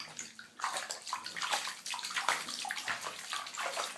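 A small child splashes and sloshes in bath water, with continuous nearby splashing and swishing throughout and no talking.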